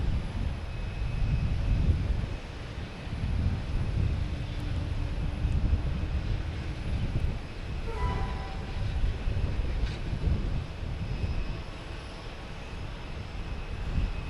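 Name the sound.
Delta Embraer 175 jet arriving over the runway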